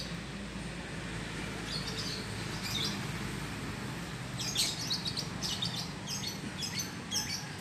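Young long-tailed shrike chicks give thin, high chirps in short clustered bursts, a few early and then a denser run of repeated calls over a steady broadband background hiss.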